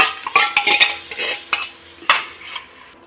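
A spoon stirs curd into spiced masala in a hot pan, producing wet scraping and sloshing strokes with light clinks against the metal and a faint sizzle, close and fairly loud, with no voices.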